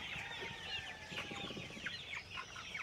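Darag native Philippine chickens clucking at a livestock farm: repeated short, fairly near clucks and chatter in a steady stream, moderately faint, with no talk.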